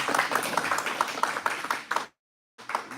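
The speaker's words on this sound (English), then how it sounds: "let's give him a round of applause first of all" An audience at a live event claps and applauds for a couple of seconds, a dense close burst of hand claps that stops abruptly.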